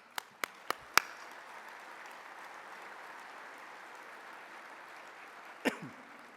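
A few sharp, separate claps, then a steady quiet crowd murmur, and one more clap-like burst near the end, at a keynote address at an army aviation summit. Faint and somewhat distant.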